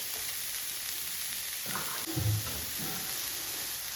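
Thinly sliced small shallots frying in oil in a pan, a faint steady sizzle with a slightly louder burst of crackling midway, close and alone.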